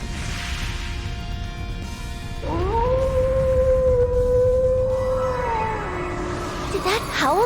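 A wolf's long, loud howl in the Trails into Reverie video game rises, holds steady for several seconds, then bends downward over rumbling battle ambience, with a short upward whoop at the end.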